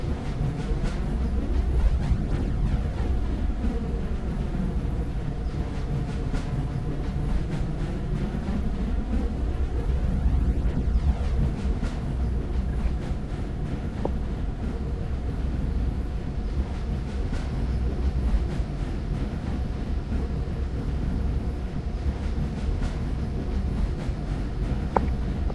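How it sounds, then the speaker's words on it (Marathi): A train driven in an Indian bike 3D video game, in a GTA 5–style model, rumbles steadily and loudly throughout with continuous rolling rail noise and faint clatter, no voices over it. "ही रेल्वे कुठे जाणार आहे मला माहिती नाही, तरी पण मी ड्रायव्हिंग करतोय."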